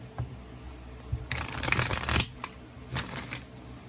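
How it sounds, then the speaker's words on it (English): Tarot cards are shuffled close by during a card reading, with soft rapid riffling bursts and flicks, loudest in a dense run midway, alone without talk. "that's a very nice shuffle"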